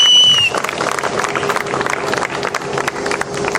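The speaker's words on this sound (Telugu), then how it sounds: "మీరందరూ కూడా చప్పట్లు కొట్టాలి వీళ్ళందరికీ కూడా" Audience applause after a speech at a local civic gathering in Rajahmundry, a dense steady clatter of many hands lasting throughout, fairly loud and close, with a brief whistle-like tone at the start.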